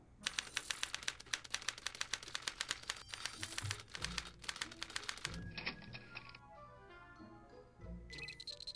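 A typewriter in the Back to the Future video game clacks out a rapid run of keystrokes, then slows to a few scattered taps and mechanical rattles, close and loud with no talk over it.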